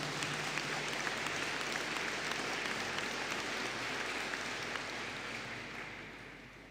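Graduation ceremony audience applauding a group of postgraduate diploma graduates, a dense sustained wash of clapping from a large hall that holds steady and then slowly fades toward the end.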